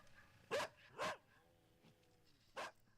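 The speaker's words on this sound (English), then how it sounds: "Mrs. Fairfax, what dog is that?" A dog in a vintage-style Jane Eyre radio drama lets out three sharp barks, two close together and one after a pause, against a quiet background with no talking.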